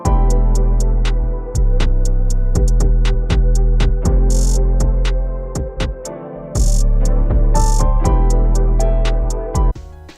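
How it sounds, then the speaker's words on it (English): A drum and bass track in a jungle style, with steady deep bass, crisp repeating hi-hat and snare hits, and brief breaks where the low end drops out before the beat returns loud and full. "This is more like drum and bass, D&B."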